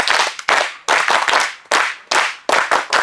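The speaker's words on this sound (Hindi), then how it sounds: "तांको पई गोटे ताली हे जाऊ।" A small class of students claps for a classmate, loud and close, in short separate bursts of a few hands each, with uneven pauses between them.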